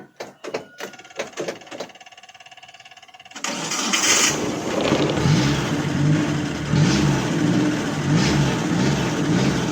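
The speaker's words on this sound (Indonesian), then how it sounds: "Normal tuh, ngebeletuk ieu mah sora knalpot teh." A motorcycle engine is kicked over with a few sputtering attempts, then catches and runs with a loud, steady popping exhaust burble that revs slightly, close by.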